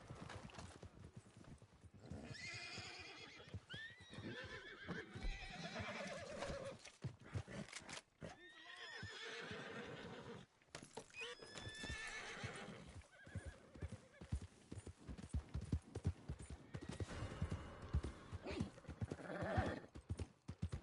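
A horse in the Red Dead Redemption 2 online game, with hooves clip-clopping steadily and repeated whinnies over a busy, continuous game soundscape.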